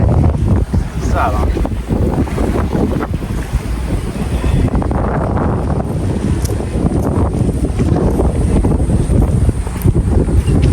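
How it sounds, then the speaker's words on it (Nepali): Strong wind gusting outdoors in Sydney near the waterfront, buffeting the microphone with a continuous loud rushing roar that hardly lets up throughout. "हावा राम्रो चल्दो रहेछ क्या।"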